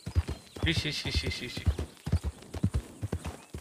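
Horse hooves clip-clop in a Wild West roleplay video game, a steady run of hoofbeats with a brief whinny, heard under ongoing talk.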